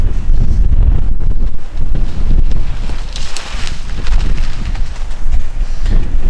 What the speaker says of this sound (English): Wind just blew my tent off.